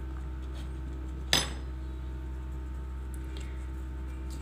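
Single metal spoon clink against a small bowl while stirring lemon juice into a homemade hand lotion mixture, one sharp tap over low steady hum, otherwise quiet.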